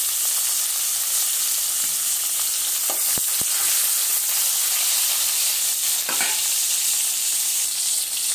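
Green chillies frying in hot oil in a pan: a loud, dense, continuous sizzle filling the whole stretch, with a couple of brief knocks of the utensil partway through and no talking.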